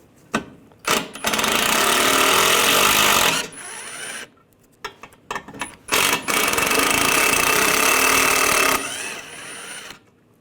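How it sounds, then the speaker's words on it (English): Power tool driving a T30 socket to remove screws from the bumper of a 2009-2017 Volkswagen Tiguan, two long loud whirring bursts with short clicks and pauses between them, no talking. "take these two screws out, use a T30 socket"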